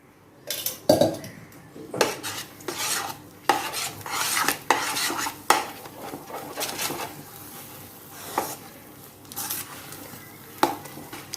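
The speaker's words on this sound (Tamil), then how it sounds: "இப்படி சுற்றுனீங்கன்னா மொத்தமாக சேர்ந்து வரும்." Wheat flour halwa is stirred in a pan, with repeated scraping and clinking of a utensil against the metal as the thick mixture pulls together, plus a faint sizzle. There is no speech.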